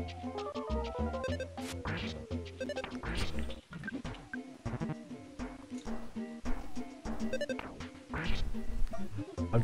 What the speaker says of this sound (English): Quacked really loudly.